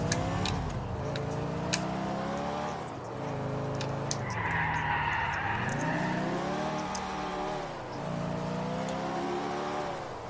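A car in GTA 4 drives with a steady engine drone that rises and falls with acceleration, broken by a long tire skid in the middle, loud and continuous with no talk.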